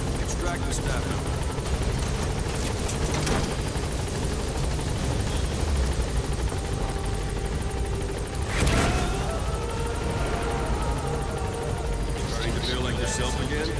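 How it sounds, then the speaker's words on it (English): A helicopter in Metal Gear Solid V: The Phantom Pain drones with a steady loud rotor throb throughout, close and continuous, while voices talk over it. "Board the chopper when you're ready for a mission"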